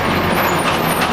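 A truck drawing up and halting on a roadway, loud and close, with a steady engine rumble and broadband road noise throughout the short stretch.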